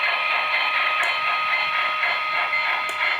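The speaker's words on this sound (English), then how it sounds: "You can hear F1 is the bell, and F2 is the steam whistle." Steady hissing steam and mechanical chuffing from an HO scale Union Pacific FEF-3 Northern steam locomotive 844 model, with faint bell-like ticks, continuous and fairly loud with no speech.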